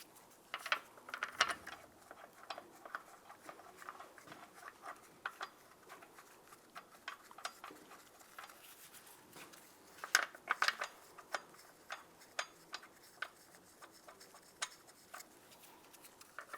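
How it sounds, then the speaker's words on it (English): Lug studs being threaded in by hand as a wheel is fitted on a Volkswagen Jetta make quiet, irregular metallic clicks, taps and ratcheting ticks scattered across a near-silent background. "Put the wheel on, line it up. Put the lug studs in."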